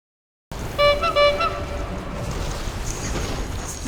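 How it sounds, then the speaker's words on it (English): A clown honk alert from a World of Warcraft add-on sounds during gameplay, two quick squeaky horn toots close together, loud and clear over a steady background hum, with no talking. "One of my add-ons just did a fucking clown honk at me."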